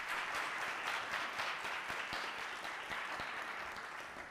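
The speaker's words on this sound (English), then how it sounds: "give them a warm round of applause" A lecture audience applauds at the close of an evening paper session, steady clapping that stays even in level and fades slightly over several seconds.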